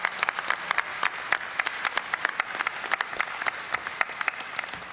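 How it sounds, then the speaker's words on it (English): A BlizzCon panel crowd breaks into sustained applause, dense overlapping claps filling the room at moderate loudness. "if you could just give a big hand to those guys out there, I'd really appreciate that"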